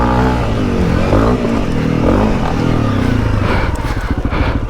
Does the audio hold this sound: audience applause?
no